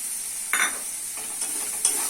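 Spice masala stir-fried in a pan, a steady bright sizzle broken by three short scraping stirs of the spatula, close up with no voices.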